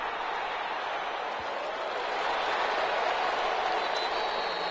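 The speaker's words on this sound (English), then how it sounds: "How about some applause for the defense there?" Crowd applause at a football game: a broad, steady wash of clapping from a distant stadium crowd, sustained and slightly swelling toward the end.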